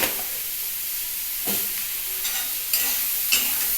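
Steady sizzling of potatoes frying in a pan, a continuous hiss with a few soft stirring scrapes, close and moderately loud, no voices.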